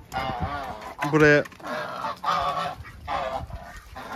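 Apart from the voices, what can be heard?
geese honking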